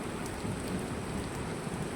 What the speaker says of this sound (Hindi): देखिए कितनी ज़ोर बारिश हो रही है, बहुत तेज़ बारिश हो रही है